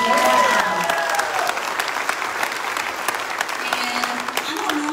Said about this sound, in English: let's give a round of applause to those kiddos